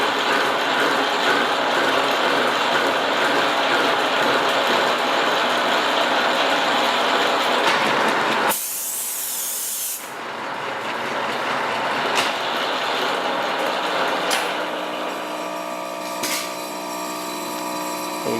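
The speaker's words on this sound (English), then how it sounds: "Plain mills do a good job." A milling machine cuts 1018 steel with a plain high-speed steel mill, giving a loud, continuous grinding and whirring drone that breaks off briefly partway and then resumes.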